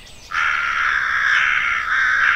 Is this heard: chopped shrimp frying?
no